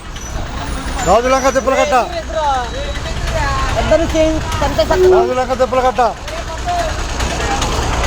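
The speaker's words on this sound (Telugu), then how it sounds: "తెనాలి తిప్పలకట్ట బస్సు బయలుదేరింది." APSRTC bus running on the Tenali to Tippalakatta route, engine rumbling steadily with air-brake hisses and a blaring horn, while people talk over it.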